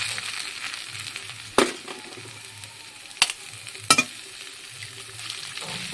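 Beaten eggs fry gently in a pan with a soft, steady sizzle at low level, broken by three sharp clinks of a utensil against the pan.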